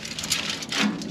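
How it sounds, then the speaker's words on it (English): Rain falls outside on a wet day, a dense steady hiss of drops with a few brighter spatters, fairly loud and constant with no voices. "it's a little rainy and wet"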